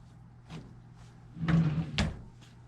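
A drawer of rolled-up matching socks being handled and shut, with a few soft knocks and two louder closing thuds close by in a quiet room.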